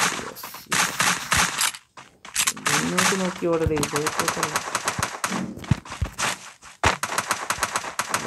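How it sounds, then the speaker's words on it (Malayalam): Rapid bursts of gunfire in the Free Fire video game on the Bermuda 2.0 map, dense rattling automatic volleys with short gaps, loud and close, while someone talks over them. "വെടിയുടെ ശബ്ദങ്ങൾ കേൾക്കുന്നുണ്ട്"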